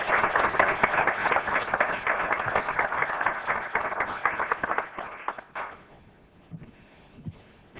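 Applause from people gathered at a Galt, California city council meeting: dense, steady clapping for about five seconds that thins out and fades, leaving a few scattered claps.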